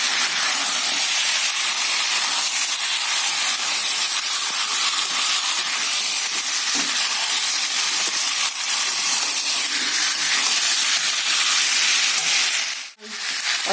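Chicken pieces sizzling in hot oil in a pan while being fried down for Bengali chicken kosha, a steady dense hiss that runs without pause, with a brief dip near the end.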